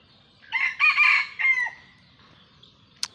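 A single hybrid junglefowl rooster crows a full, harmonic call in one long phrase, loud and nearby, followed by silence and a brief sharp click.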